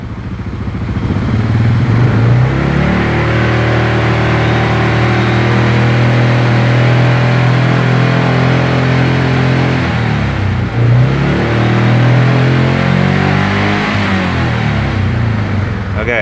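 A Wolverine 708 buggy engine from an EHS Racing project revs loud and close, holding a steady high idle for several seconds, dipping briefly, then climbing again in a sustained, rising drone.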